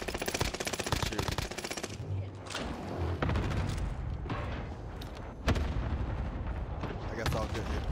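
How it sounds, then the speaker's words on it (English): Gunfire in Call of Duty Warzone Rebirth: dense, rapid automatic bursts, then heavy booming shots and continuous firing, loud and close throughout. "I got shooting going on right above me."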